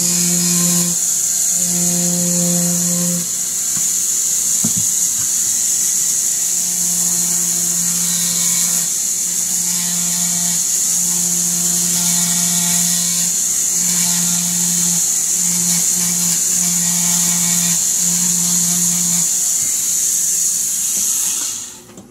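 A handheld rotary tool engraving metal makes a loud, steady high-pitched whine that runs without a break for about twenty seconds. Underneath it, the motor's lower tone swells and dips in pitch as the tool bites into the surface, with no voices.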